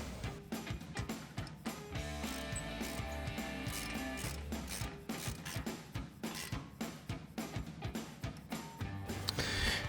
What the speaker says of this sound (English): grab our 17mm socket on our ratchet and tighten these back down